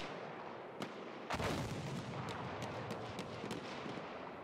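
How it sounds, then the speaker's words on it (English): Scattered gunshots in a competitive Halo match crack out one after another at irregular intervals, a sharp louder report standing out among fainter distant shots, with no voices over them. "We are going to hear some shots going off."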